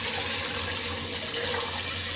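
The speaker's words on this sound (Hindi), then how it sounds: "अब हम इसमें गर्म पानी डालेंगे" Hot water is poured steadily into a pot of frying mutton trotters, making a loud, continuous rushing splash.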